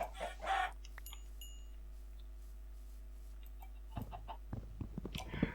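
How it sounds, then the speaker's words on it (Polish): Minecraft chickens clucking in a blocky game world, a few short clucks and blips over a steady low game hum, with busier clicking sounds near the end. "Kurczaki mi uciekły."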